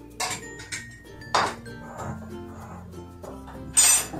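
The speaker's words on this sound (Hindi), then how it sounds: "और इसको दूध के साथ मिक्स कर लेते हैं।" A spoon clinks against a bowl while mixing a Parle-G biscuit mithai mixture with milk. About five sharp clinks come at irregular intervals, with soft scraping between them and quiet gaps.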